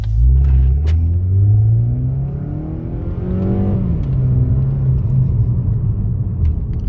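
Cabin sound of a 2019 Mazda 3 with a Corksport high flow intake, windows up: a steady low engine drone that swells as revs climb and falls back, continuous and moderately loud with no talk.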